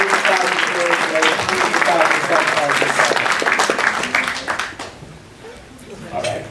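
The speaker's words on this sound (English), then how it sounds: "Let's give another round of applause for all the conservative leaders" Applause from the crowd at a Young Conservatives of Texas state convention in Dallas, a long round of clapping for conservative leaders with voices and cheers mixed in, tapering off near the end.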